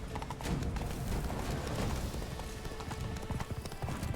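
Horse hooves clip-clopping steadily in The Witcher 3, a game from the Blood and Wine expansion, with a continuous rhythmic gallop at moderate level alongside busy game sounds.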